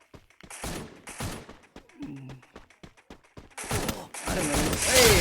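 Gunfire in a shooting video game: sharp repeated shots in a quick rhythmic burst, with denser loud firing and game effects toward the end, set against background game sounds.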